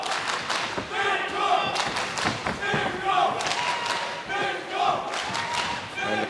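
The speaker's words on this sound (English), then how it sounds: "the crowd here at the Ballerup Super Arena still making plenty of noise" Crowd noise in the Ballerup Super Arena during a mixed martial arts bout, a roaring, shouting audience with thuds and slams, heard under a commentator's voice.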